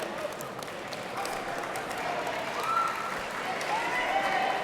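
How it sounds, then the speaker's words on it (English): A school gym crowd at a middle school wrestling championship rises into steady cheering and applause for a favorite wrestler, a broad continuous roar with a few louder swells, heard at a distance in the hall. "the crowd's starting to pick it up for their favorite wrestler"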